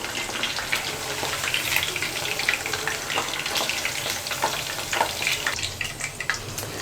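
Chilli chicken frying in a pan gives a steady, close sizzle with scattered crackles and pops over about seven seconds; no one talks.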